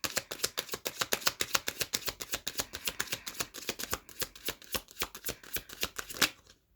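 Tarot cards are shuffled and pulled from a deck, a rapid run of crisp, close flicks and riffles in an even rhythm that slows and stops near the end, with no voices.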